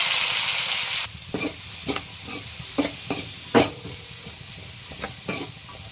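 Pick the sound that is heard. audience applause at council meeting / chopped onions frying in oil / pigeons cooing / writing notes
chopped onions frying in oil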